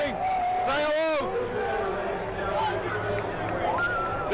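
A stadium crowd in Fayetteville in loud uproar after Arkansas upsets Tennessee, a dense, continuous wash of cheering and shouting with whistles, close and steady, and voices calling out over it.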